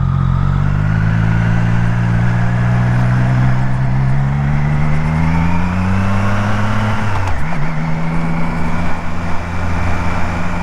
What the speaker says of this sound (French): Oh la Twingo jaune, oh c'est pas beau